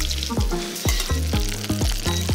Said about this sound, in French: Maintenant qu'on a fini de singer nos petites côtes d'agneau, on va les cuire.